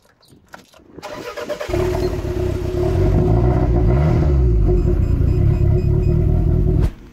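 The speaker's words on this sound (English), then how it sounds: "just wanted you to hear the sound of the engine when it starts up" Toyota MR2 sports car engine starting: a short clatter of cranking, then the motor catches and settles into a loud, steady close-up idle that runs until it cuts off near the end.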